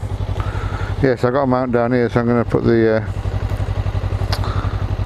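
A Suzuki GSX250R motorcycle with a standard exhaust idles steadily and close by, with a continuous low engine drone running throughout while someone talks over it for about two seconds in the middle.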